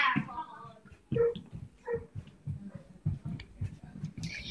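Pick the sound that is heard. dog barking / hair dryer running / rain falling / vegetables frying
dog barking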